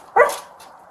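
A sheriff's police dog gives a single sharp, close bark that trails off quickly, with no other sound around it.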